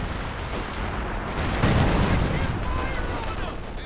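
Artillery and gunfire from the real-time strategy game Company of Heroes 2, a continuous rumbling battle din with a swell of heavy booms midway, under a speaking voice.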